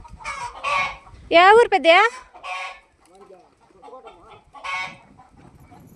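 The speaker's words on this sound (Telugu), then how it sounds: "హే మా కోళ్ళు అన్నీ గ్యాబర్ పడిపోతాయి." Chickens cluck and squawk in a short burst of loud, strained calls near the middle, with softer clucks around it, close by outdoors, while people talk over and between them.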